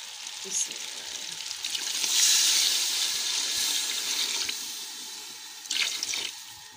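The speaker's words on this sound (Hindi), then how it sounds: "अब मैं इसमें पानी शामिल करूँगी।" Water poured into spiced masala that was frying in a pan, giving a steady loud hiss and splashing sizzle that swells in the middle and flares again near the end, with no talk.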